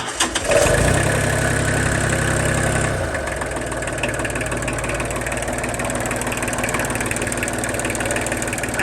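Kubota L2201G 26-horsepower tractor engine with a weak battery cranks and starts, revving loudly for a couple of seconds before settling into a steady close idle.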